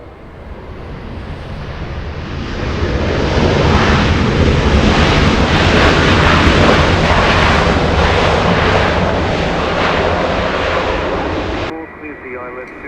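A United airliner landing at LAX roars past, a loud broadband jet rumble that builds, holds for several seconds, then cuts off, with radio chatter mixed in.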